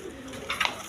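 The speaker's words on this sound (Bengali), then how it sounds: "এক পেয়ার রেশার কবুতর আছে লাইট কালারের মধ্যে" A pair of light-coloured racer pigeons at a pigeon farm gives a brief, soft coo, close by and fairly quiet over faint background noise.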